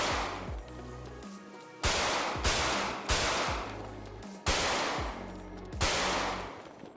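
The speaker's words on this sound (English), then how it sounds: "I wanted to fire a few shots so you guys can hear that" Handgun shots fired inside the Mission Row police station in GTA 5, about six sharp, loud bangs at irregular intervals, each with a reverberant indoor tail and a low hum between them.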